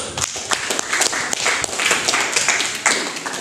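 A classroom group claps for a presenting group, dense continuous applause from several people lasting a few seconds, fairly close and lively.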